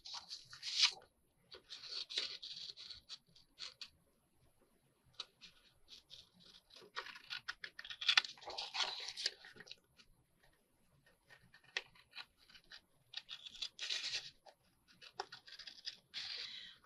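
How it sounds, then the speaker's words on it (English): Scissors snip and rustle through paper in quiet, uneven bursts with short pauses between cuts, close and soft. "Now this one I can probably just cut with scissors."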